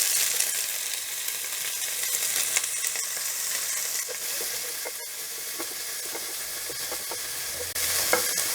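About 200 grams of finely chopped onion sautés in a pan with a dried red chilli and curry leaves, a continuous close sizzle broken by occasional stirring scrapes and clicks, with no talking.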